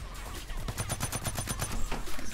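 A rapid burst of about a dozen evenly spaced rifle shots from a heavy assault rifle in the shooter game Blacklight: Retribution, loud and close over steady game background noise, with no talk.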